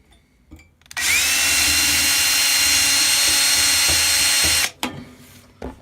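A power drill whirs loudly and steadily for about four seconds, drilling through a penny, starting abruptly and stopping with a few clicks and knocks afterward.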